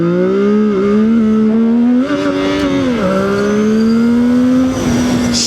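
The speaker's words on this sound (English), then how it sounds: "So I was trying to launch the bike very aggressively" A CFMOTO 675NK motorcycle launched hard into a wheelie, its engine screaming loud and close with rising and dipping revs as it shifts through gears over several seconds.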